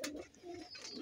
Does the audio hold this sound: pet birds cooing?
yes